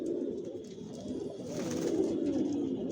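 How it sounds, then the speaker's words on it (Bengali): Foreign racer pigeons coo in a steady, close murmur of overlapping low throaty calls, a dense flock sound with no talking. "এগুলো সব বিদেশি কবুতর"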